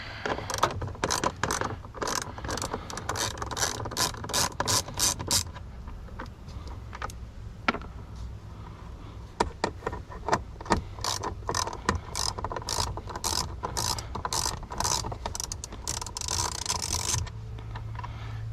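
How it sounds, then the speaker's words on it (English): Ratchet fitted with a 7mm socket spins out fasteners at the cabin air filter of a Ford Super Duty F-250/F-350, producing close, rapid bursts of clicking that pause briefly and resume, with no talk. "Then you're gonna need a 7mm socket."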